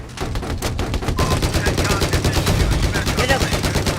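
Rapid machine-gun fire from an M1 Abrams tank in the Battlefield 4 video game, a dense continuous rattle of loud shots filling the whole stretch with no pauses.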